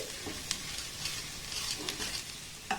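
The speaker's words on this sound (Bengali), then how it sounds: "আলুটাকে এইভাবে প্রথমে হাতার মাধ্যমে খুব সুন্দর করে কিন্তু মেখে নিতে হবে" A ladle stirring and pressing mashed potato mixed with salt and spices in a pan, a soft continuous scraping and mixing with a few sharper clicks as the ladle knocks the pan.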